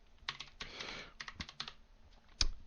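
Quiet typing on a computer keyboard, with bursts of soft key clicks at an uneven rhythm and a single louder key strike near the end, close and without talk.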